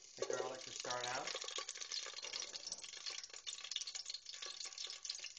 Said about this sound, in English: what we're going to do is brown the garlic to start out